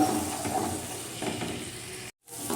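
Spices with chili powder stir-fry in hot oil in a pan, a steady soft sizzle with light stirring, broken by a brief moment of silence.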